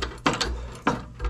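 Worn car suspension control arm heim joints clunking, two sharp metallic knocks about half a second apart, close and fairly loud, heard with no talking.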